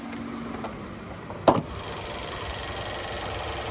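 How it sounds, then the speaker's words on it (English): The 2-liter naturally aspirated four-cylinder engine of a 2026 Nissan Kicks SV FWD idles with a low, steady hum, punctuated by a single sharp click or thud midway through. "there's that 2-liter naturally aspirated 4-cylinder"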